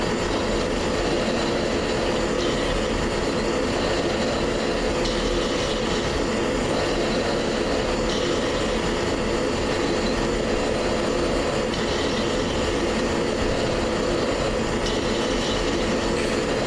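An F-16 jet engine spins up in a flight simulator, a loud, steady turbine roar and whine holding constant throughout with faint periodic clicks above it.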